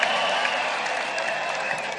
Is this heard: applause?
yes